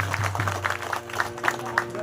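Audience at a village bhajan satsang gathering in Gujarat applauds, a brief patter of scattered clapping with low hum beneath.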